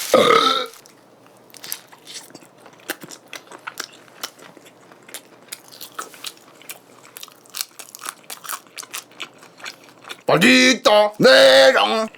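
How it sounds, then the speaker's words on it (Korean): A loud, drawn-out burp follows a mukbang meal of a Domino's crab-topped pizza with Coca-Cola, coming after a stretch of crunchy biting and chewing close to the mic. "트림을 아무데나 할 순 없잖아"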